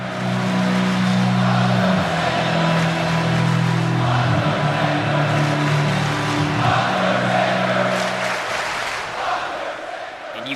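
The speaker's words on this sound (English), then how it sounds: "You can hear the crowd here tonight in full support of the Deadman." A wrestling arena crowd at a WrestleMania event roars steadily in support of The Undertaker, a loud, dense wall of cheering that holds throughout and eases slightly near the end, with a low droning tone running underneath.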